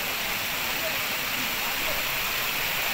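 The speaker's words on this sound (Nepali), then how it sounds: "हेर्नु होला, मुक्तिनाथको 108 धारा।" Water pours steadily from the 108 spouts at the Muktinath temple, a dense, constant rushing splash at close range, with a voice speaking faintly under it.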